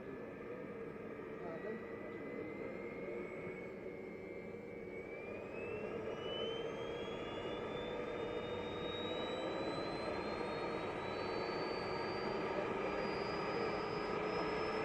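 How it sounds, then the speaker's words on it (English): An Avro Vulcan bomber's jet turbines spool up at RAF Elvington, a sustained roar with a whine that climbs steadily in pitch and grows slightly louder over about fifteen seconds. "The turbine spooling up."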